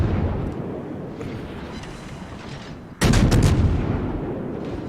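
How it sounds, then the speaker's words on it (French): Warship cannons fire during a World of Warships naval battle, one sudden heavy boom cutting through a constant low rumble of engines and sea. "Le bruit des canons, ça fait un peu un rythme de tam-tam."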